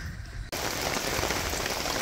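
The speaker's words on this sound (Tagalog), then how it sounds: "Maulan, sobrang ulan, no?" Heavy rain pours down as a dense, steady roar on surfaces on a rainy morning, starting abruptly after a quieter half-second and then continuing unbroken.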